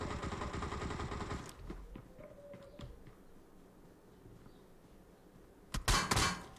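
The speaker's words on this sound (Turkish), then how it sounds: "Adamlarda silahlar var tarıyorlar bizde" Enemy gunfire in PUBG Mobile: a loud dense burst of rapid shots at the start, scattered faint clicks and shots in between, then another sharp close volley near the end, no talk.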